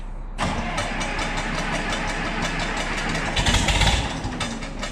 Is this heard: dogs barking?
no